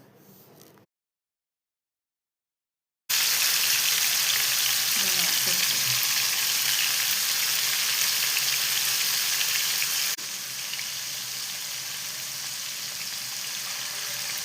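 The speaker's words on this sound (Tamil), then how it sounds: "டீப் ஃப்ரை பண்ணாதீங்க, ஷாலோ ஃப்ரை பண்ணுங்கள்." Paneer cubes shallow-fried in a pan for biryani sizzle loudly and steadily. The frying starts after a short quiet gap, runs evenly, and eases slightly toward the end.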